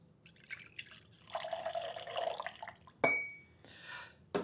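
Pineapple juice being poured into a glass for an Apple Bomb cocktail, quiet trickling and splashing close up with a few sharp clinks of glass, fairly faint overall.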